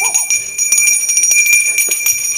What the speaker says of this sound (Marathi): चल रे, बेल दे. चल लवकर बेल दे.